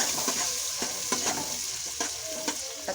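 Chopped onions for pav bhaji cook in a pan, giving a steady close sizzle broken by regular scraping strokes of a stirring spoon, with no voices.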